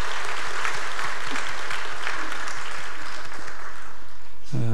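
A church congregation claps together in sustained, even applause that fills the room during a Sunday service, ending abruptly with a low tonal sound at the close.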